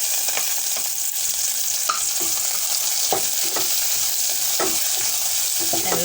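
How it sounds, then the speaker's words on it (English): Onion dropped into hot oil for a tilapia fish curry, giving a loud, steady close sizzle with repeated scraping stirs of a spoon against the pan. "In my oil, I'm going to put the onion"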